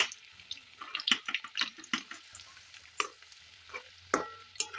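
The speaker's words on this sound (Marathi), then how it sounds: "एक एक करून आपण तळून घ्यायचं आहे आणि मीडियम गॅसवरती वरती म्हणजे तळून घ्यायची वडी" Kothimbir vadi, coriander fritters made with bajra flour, fry in oil over a medium gas flame. Bubbling and sizzling come in irregular bursts, with a few sharper crackles and splashes close by.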